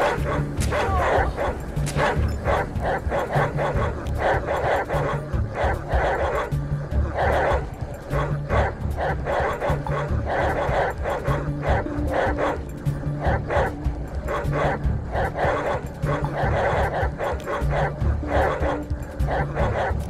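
Dogs bark and yip in a combat scene in the video game Atom RPG, rapid repeated loud barks with whimpers packed densely over twenty seconds amid dense game noise.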